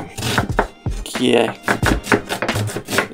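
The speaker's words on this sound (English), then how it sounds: "Okay, I diced the onion, but it says finely chopped" A knife dices an onion on a cutting board in quick, uneven bursts of sharp thuds, with a short pause partway through and a brief spoken word in between.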